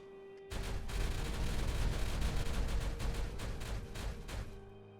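Dynamite blast in the Timberborn video game: a sudden loud, rumbling burst that stays dense and crackling for several seconds before slowly fading, with no talk over it.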